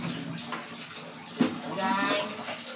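Water pouring into a nearly full bucket in a bathroom, a steady splashing wash with a brief louder slosh partway through, and faint voices in the background.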